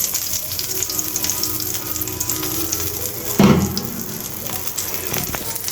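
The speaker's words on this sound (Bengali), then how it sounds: "তো বেগুন ভাজা করতেছি" Eggplant slices fry crisp in hot oil, a steady close sizzle and crackle throughout, with a brief louder clatter of stirring midway.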